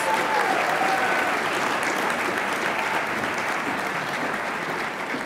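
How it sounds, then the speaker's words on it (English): A large audience at an employee awards ceremony gives a long, dense round of applause for retirees, loud and steady throughout before easing slightly at the end, with no voices over it. "let's give another big round of applause for our retirees"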